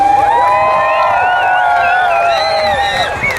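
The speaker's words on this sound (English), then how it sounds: "let's give them a big cheer, then they can hear you on the canopy" A large outdoor airshow crowd at Bournemouth cheers and whoops for a parachute display team, a dense, loud sustained roar of many voices with high shouts rising and falling throughout.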